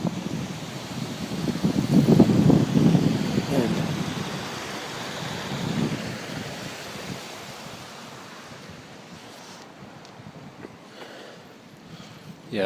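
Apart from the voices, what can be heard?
active waterfall on Fish Lake Trail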